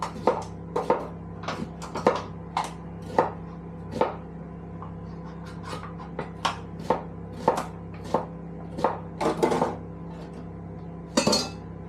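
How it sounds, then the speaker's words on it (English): Knife chopping tomatoes into quarters on a board, a series of sharp, distinct chops at an uneven rhythm with short pauses, close and clear over a low steady hum, no voices. "Cut those tomatoes down into Just in quarters?"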